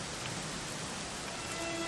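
Rain falling in the video game Dragon Quest XI S, a soft, steady hiss of rainfall spread evenly throughout, quiet and unbroken with no voices.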